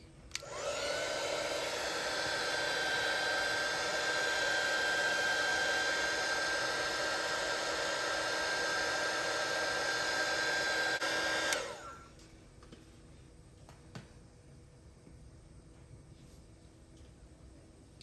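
Hair dryer blowing on a watercolor winter snow scene: a loud, steady whirring rush for about eleven seconds, then it switches off, leaving quiet room sound with faint small handling noises.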